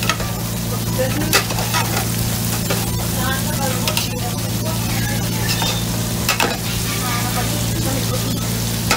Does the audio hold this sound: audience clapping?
no